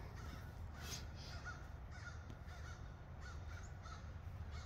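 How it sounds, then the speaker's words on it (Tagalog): Several crows caw faintly and intermittently from a distance in a church-side park, their scattered calls set against a steady low background hum. "Narinig nyo ba yun? Yung mga uwak."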